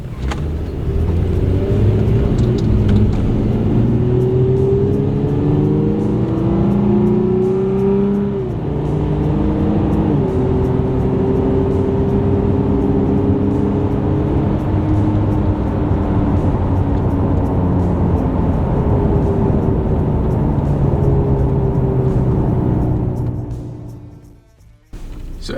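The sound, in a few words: Toyota Tacoma truck accelerating 0 to 60 in city mode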